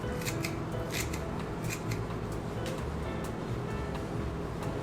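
Kitchen scissors snipping through kimchi, a steady run of quick crisp cuts over a constant low background hum, close and moderately loud.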